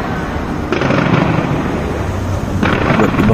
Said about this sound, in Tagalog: Napakarami siguro yung fireworks.